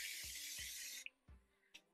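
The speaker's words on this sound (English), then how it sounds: "I'm going to take my Gotta Be Glue free spray, and I'm just gonna kind of spray this" Gotta Be Glue freeze spray hissing from the can onto short hair while styling a top knot bun, one continuous spray of about a second, then a few soft taps and handling sounds close by.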